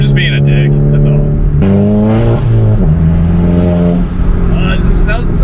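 A loud MK6 Jetta engine revs in a tunnel, with strong echoing tones that climb and fall through several throttle changes.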